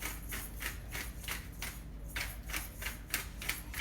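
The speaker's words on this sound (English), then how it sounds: "Then I'm gonna grind some turmeric pepper in." Hand spice grinder cracking turmeric pepper in a home kitchen, with a rapid series of close, crisp rasping clicks repeating in short bursts throughout.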